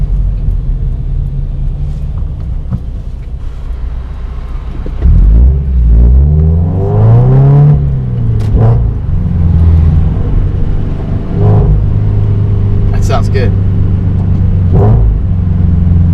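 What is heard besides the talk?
Toyota 86 engine revving with DC Sports cat-back exhaust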